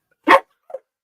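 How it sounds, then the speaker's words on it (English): A dog barks twice within a music track, a loud sharp bark followed by a softer, shorter one, each separated by silence. "That's how he barked, didn't it?"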